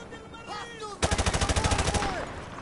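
Call of Duty Modern Warfare Remastered on PS4, gunfire in the game: a rapid automatic burst of about a dozen loud cracks, with a voice talking just before it.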